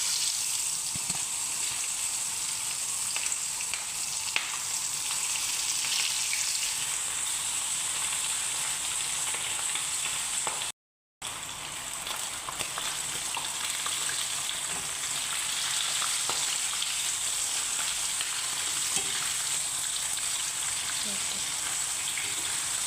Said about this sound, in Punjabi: ਸਾਰੇ ਚਿਕਨ ਨੂੰ ਤੇਲ 'ਚ ਤਲਣਾ ਠੀਕ ਹੈ ਜੀ ਇੱਕ ਇੱਕ ਪੀਸ ਕਰਕੇ ਤਲਣਾ